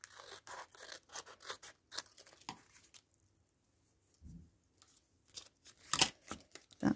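Scissors snip through a paper envelope in quick crisp bursts, a run of cuts, then a quiet pause, then a few sharper snips close to the mic.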